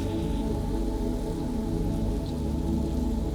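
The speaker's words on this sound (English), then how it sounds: "Rain started." Steady rain falls on a city street during a photo walk, a dense, even hiss with pattering drops landing on surfaces and puddles, continuous and close throughout, with no voices.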